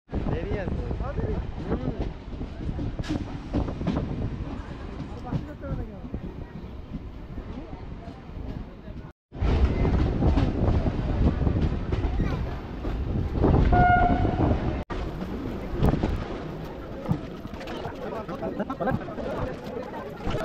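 A train at Jalalkhali Halt station on the line to Krishnanagar, a continuous heavy rumble of rolling rail cars with a brief break and a faint horn-like tone, with people talking at times.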